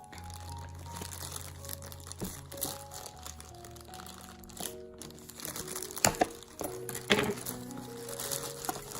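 Packaging for a GoPro HERO 7 camera is torn and opened close up, with crinkling plastic, scraping cardboard and a few sharp snaps and taps in an uneven sequence.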